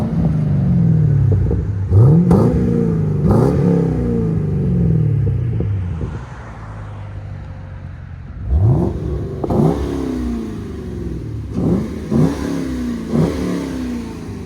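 A white 2014 Chevy Camaro 2SS with a 6.2L V8 and Magnaflow Magnapack exhaust revs in repeated loud, close blips, first in a cluster, then a lull with idle rumble, then another series of sharp rises and falls.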